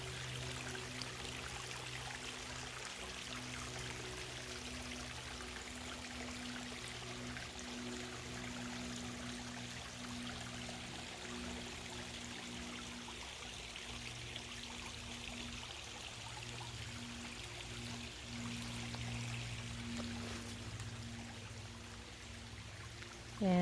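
A small stream flows steadily outdoors on a nature walk, making a faint, continuous trickle with a low hum beneath it and no talking.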